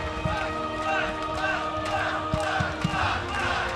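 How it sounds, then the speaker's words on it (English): An esports crowd at IEM Toronto chants a StarCraft 2 player's name after a quarterfinal win, a rhythmic roaring chant from a large arena audience with a commentator talking over it. "The crowd chanting Flash as he moves on to the semis"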